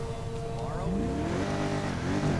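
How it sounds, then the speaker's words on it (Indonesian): A BMW M2 accelerating in the video game GTA 5, with a steady engine roar whose pitch sweeps upward as it revs, loud and continuous, with faint talk underneath. "Baru ngegas langsung ngegas."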